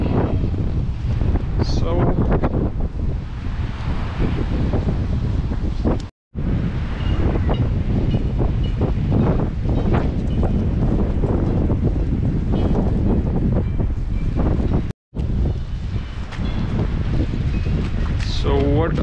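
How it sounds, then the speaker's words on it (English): Strong wind buffets a microphone outdoors on a sunny, breezy day in Espoo, Finland, a steady roaring rumble broken by two brief dropouts, with a voice barely speaking beneath it. "It's sunny, but it's windy, but it's not that chilly."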